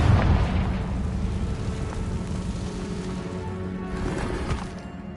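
A Confringo fire spell bursts in Hogwarts Legacy with a heavy boom at the start, then a long rumbling crackle that slowly trails off over several seconds, loud and close with no talk.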